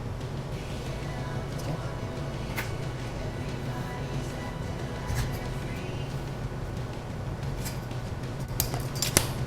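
Scissors cutting through a bungee cord, with a few sharp snips standing out over a constant low background hum.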